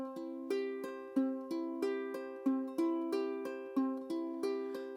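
Ukulele Travis picking of "Are You Sleeping", plucked notes in an even repeating pattern with clear attacks, close and clean, alone without talk.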